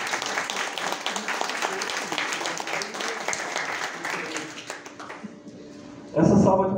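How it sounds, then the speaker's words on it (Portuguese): Audience applause at a formal academy ceremony, a sustained spread of clapping that thins toward the end before a sudden louder burst near the close. "a quem eu peço uma salva de palmas."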